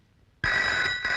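An old-style telephone bell rings suddenly after a quiet moment, a bright, continuous metallic trill that starts at full volume and stays close and loud.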